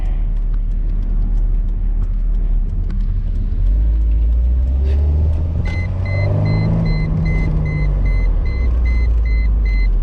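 A 1998 Mercedes-Benz SLK 230 drives with a possible exhaust leak, its exhaust a deep continuous rumble that swells as it accelerates, with a repeating electronic warning beep chiming over it in the second half.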